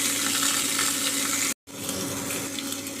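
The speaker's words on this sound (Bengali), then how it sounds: "এবার হালকা রং ধরা পর্যন্ত এপিটোপিট করে ভেজে নেব।" Pointed gourds (potol) shallow-frying in hot oil give a steady, dense hiss close up, cut by a brief gap of silence midway before the sizzling resumes.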